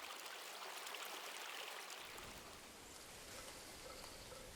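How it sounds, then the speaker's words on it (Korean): A mountain stream in Baekdam Valley on Seoraksan rushes steadily over rocks, a continuous close watery hiss that thickens after the first two seconds, with no voices. "대청봉에서 내려온 물줄기가 100개의 작은 담을 만든다 하여 이름 붙여진 백담 계곡"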